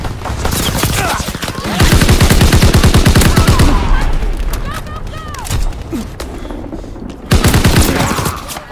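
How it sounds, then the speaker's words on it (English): Rapid bursts of automatic gunfire and booming shots in Call of Duty WW2 multiplayer, loud and close, with shouted in-game voice lines over the battle. "Get suppressing fire!"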